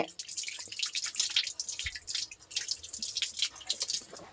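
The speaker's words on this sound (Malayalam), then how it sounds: "ഇനി ഇതിലേക്ക് ചൂടുവെള്ളം ഒഴിച്ചിട്ട് അടുപ്പത്താണ് വെക്കുക" Hot water is poured into a pot of meat curry, giving a steady, bright splashing and trickling that rises and falls in bursts, close and fairly loud.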